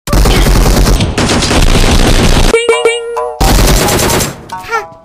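AN94 rifle fire in Peacekeeper Elite, loud rapid automatic bursts packed close together, broken by a short gap with ringing electronic tones before another burst and a final crackle.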